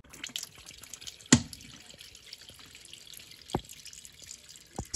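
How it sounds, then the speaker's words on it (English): Water draining out of a small portable washing machine falls as sparse, sharp drips and splashes against a quiet background, one louder splash followed by a few softer ones. "we're gonna put it over into a space to drain it and all the water will come out of this little"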